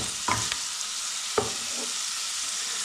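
Tofu frying in a pan for a vegan seaweed and tofu soup, a steady close sizzle with a few sharp stirring clinks and scrapes near the start and middle, no voices.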